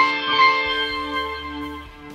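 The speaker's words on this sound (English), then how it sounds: "I added a delay effect with only one repeat. I also added a reverb effect to get that big sound." A sustained electric guitar chord rings out with a washy, spacious tail, its tones lingering and slowly fading as echoes and reverb blend together.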